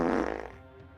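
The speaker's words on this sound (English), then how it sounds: "I think I owe you a fart." A single short fart, loud and low with a sputtering, fluttering buzz that trails off quickly into quiet.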